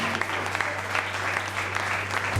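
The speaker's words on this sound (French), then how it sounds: "Soutenez-la par les acclamations." An audience at the official launch of a children's charity NGO applauds steadily, a dense, even wash of clapping from a crowd that holds at a constant level with a low hum beneath.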